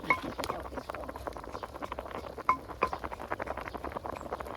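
Rain pattering steadily, a dense stream of small ticks and taps close by, with a few sharper clinks standing out now and then.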